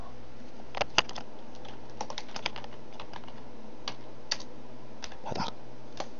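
Keys clatter on a computer keyboard in a quiet room, a handful of close, crisp taps in irregular short bursts over a faint steady hum.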